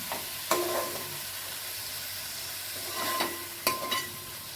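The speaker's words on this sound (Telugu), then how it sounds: "ఇది 1/2 కేజీ అండి టమాటాలు. బాగా వేయించుకుందాం." Half a kilo of tomatoes fries gently in a pan for tomato rice, a soft steady sizzle broken by a few sharp scrapes of stirring, close and fairly quiet with no talking.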